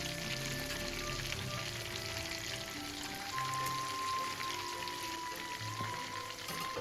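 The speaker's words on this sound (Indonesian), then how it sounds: "kurang lebih setiap sisi digoreng 3 menit, lalu dibalik" Chicken pieces with galangal frying in oil in a pan over medium-low heat, a steady soft sizzle with faint crackle running continuously and quietly, with no voices.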